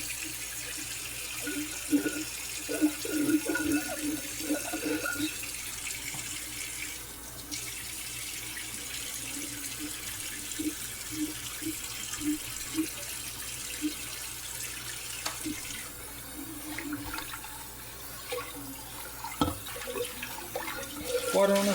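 A kitchen tap runs steadily while a dish is washed by hand, with low clatter and rubbing from the sink and occasional voices and movement nearby, moderate and continuous throughout.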